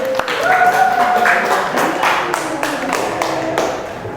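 A class of students applauding in a room, with dense clapping that swells and thins over about four seconds alongside a raised voice.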